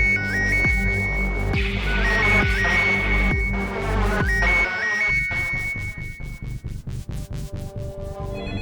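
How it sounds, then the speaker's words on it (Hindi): Phone ringing in a crime drama scene, a loud electronic ringtone with repeating chirping tones and a throbbing pulse, ringing several times close by with no voices over it. "फोन आ गया।"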